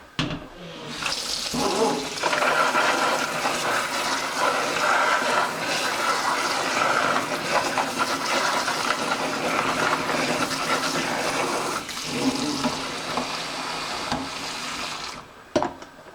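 Tap water pouring steadily into a container with dish soap for washing small plastic doll pieces, a loud continuous gush close by that starts abruptly and cuts off near the end.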